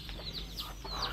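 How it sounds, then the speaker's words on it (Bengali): Chickens cluck in a rural Bengali farmyard, a few short soft calls scattered over steady outdoor background noise. "হ্যাঁ ওইখানে এটা মুরগি আছে"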